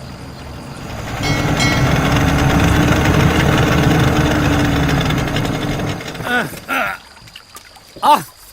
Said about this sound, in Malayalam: ബോട്ട് വരുന്നുണ്ട്,